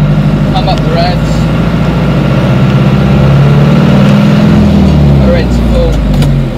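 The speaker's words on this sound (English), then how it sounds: "Now I'll use the hand throttle here just to get us into full revs." Engine of a John Deere 2140 tractor running loud and steady, its low drone holding close throughout as the hand throttle brings it up to full revs.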